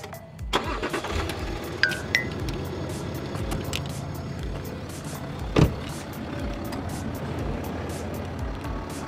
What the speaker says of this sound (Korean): 시동을 켰고요